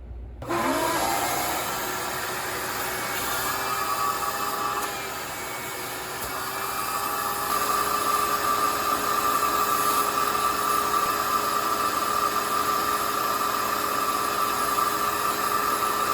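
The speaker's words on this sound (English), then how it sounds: "put my shop vac on that hole, and I'm pretty sure it'll just suck the glue right down into that void" A shop vac held over a drilled hole in plywood, sucking glue down into the void inside, switching on abruptly into a steady loud whine and roar that shifts slightly in pitch partway through.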